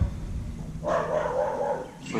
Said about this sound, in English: my dog's going ballistic